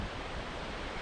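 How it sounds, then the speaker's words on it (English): Rushing water of Keithley Creek, a Cariboo creek beside a mining camp, pours as a steady, dense broadband roar close by, unbroken for the whole second with no voices over it. "we are at the famous Keithley Creek. It's right down here behind me. I'm sure you can hear it."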